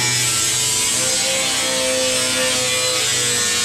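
A thick metal sheet being cut for a car's floor panel, a steady, loud, continuous grinding buzz that holds without a break from start to finish, with no voices over it.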